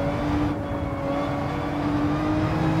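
A Gran Turismo 7 race car engine holds a steady, sustained drone with a whirring tone as the car works through a track section, with no talking.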